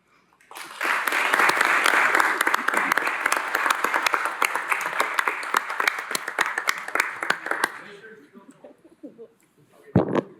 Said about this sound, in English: These girls deserve all the applause you can give them.